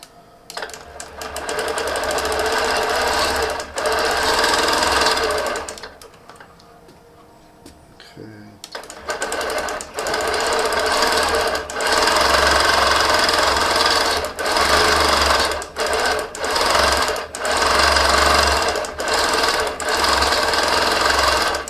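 A quilting sewing machine stitches a feathers pattern in a rapid mechanical chatter, running in long bursts that stop briefly for a quiet pause midway before resuming with repeated starts and stops.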